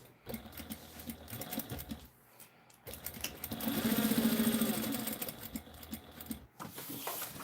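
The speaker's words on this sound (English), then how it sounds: "I can hear that bobbin." A sewing machine runs in bursts with the bobbin whirring, close and fairly loud, stopping and restarting with a longer steady run in the middle, no voices.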